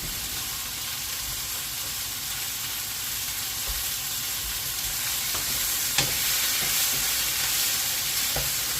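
Pieces of beef for a steak and mushroom pie brown over high heat in a hot pan, giving a continuous close sizzle and hiss with a few faint clicks of a utensil, and no speech.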